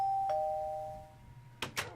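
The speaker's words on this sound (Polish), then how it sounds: "zadzwońmy sobie dzwonkiem" A doorbell in MrCrayfish's Furniture Mod for Minecraft gives a clear electronic ding-dong: a bright sustained tone that rings out and fades, followed near the end by two quick separate game sound clicks, with no talking.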